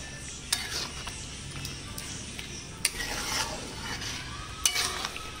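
Cream stirred into chicken in a pan, a steady soft sizzle running throughout with a few sharp utensil clinks and scrapes against the pan, close and moderately loud with no talking.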